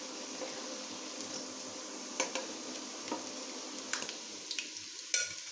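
Beef kabab patties (tikia) frying in oil in a pan, a steady soft sizzle with a few sharp crackles and spatters standing out near the end, no voices.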